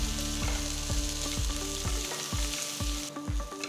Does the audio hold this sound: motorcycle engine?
no